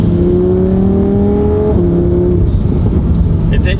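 A Lamborghini with a dual-clutch transmission revs and accelerates off-road, its engine note climbing steadily in pitch, dropping at a gear shift, then building again, loud and close inside the car.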